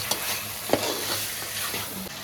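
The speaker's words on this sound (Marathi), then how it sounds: "चिकन आता फोडण्यात घातला, मीठ टाकून आता शिजत ठेवूया." Chicken sizzles in a pan of hot tempering with salt, a steady close frying hiss with a couple of sharp clinks from a spoon, no voices.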